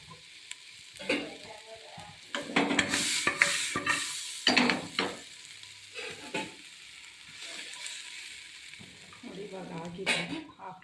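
Pumpkin and moong dal stir-fry in oil on low heat, with scraping spoon strokes and a soft sizzle coming in bursts, while a voice talks over the cooking.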